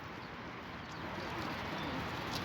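Soft cooing of young pigeons in a steady, noisy background, with no clear individual calls standing out.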